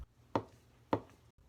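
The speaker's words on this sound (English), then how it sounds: "Instead, chop with a wave-like motion like this." Two crisp knife chops on a cutting board, spaced about half a second apart, as vegetables for salsa criolla are cut with a wave-like rocking motion; close and clear with no talking.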